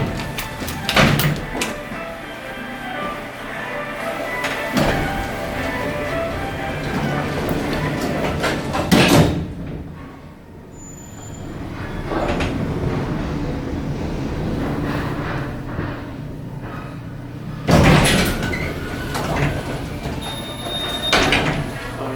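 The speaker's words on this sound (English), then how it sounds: "this will be a final ride on this elevator" An OTIS traction elevator at Macy's in Bayfair Center, San Leandro, California: doors slide with thuds near the start and end, and a steady machine hum runs through the ride between them.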